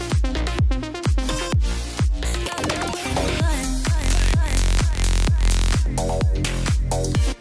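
Electronic dance track drop plays back loud and full, punchy kicks and rhythmic synth stabs in a driving groove with short gaps between hits, running continuously for several seconds.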